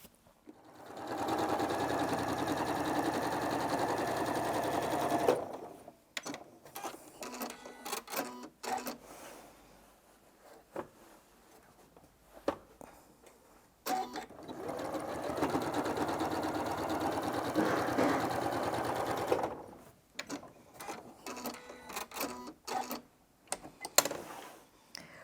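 A home sewing machine stitches quilting lines through a quilt, running in two long steady bursts of motor whir and needle clatter, separated by a quieter stretch of handling clicks and rustles, with short bursts toward the end.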